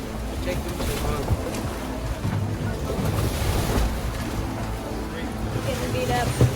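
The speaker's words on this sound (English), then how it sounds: "Because the boat is smashing against the rocks." Pre-typhoon waves smash a boat against rocks on the way to Pescador Island. Heavy surf and water churn steadily under gusty wind noise, with voices faint in the mix.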